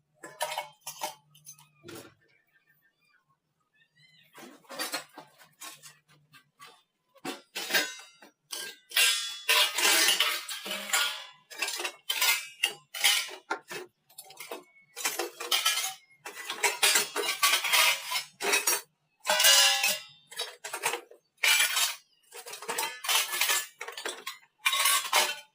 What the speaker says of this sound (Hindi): तो चलो पहले बर्तन साफ़ कर लेते हैं